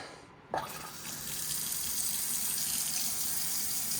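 Water bursts on and streams steadily from a new Moen single-handle pull-down kitchen faucet sprayer into the sink, a sudden start followed by a continuous close hiss and splash.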